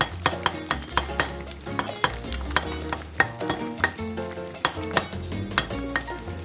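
Canned fish and egg are stirred and scrambled in a hot frying pan, with a steady sizzle under a quick, regular scraping and tapping of the utensil against the pan, close and fairly loud.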